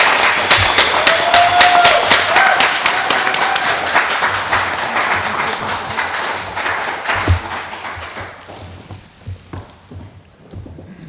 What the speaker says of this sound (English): If she could come up here, we would want to applaud her.